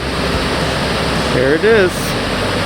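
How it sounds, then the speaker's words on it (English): Jōren Falls, a waterfall on Japan's Izu Peninsula, gives a steady broadband roar throughout, with a person speaking briefly over it near the end. "Here it is, Jōren Falls, one of Japan's top 100 waterfalls."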